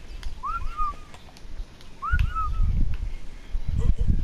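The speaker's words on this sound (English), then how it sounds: "I'm hoping if I just keep whistling," Someone whistles to call animals in Ark Survival Evolved, short two-note rising-falling whistles repeated twice, with low rumbling and a voice briefly under the sound.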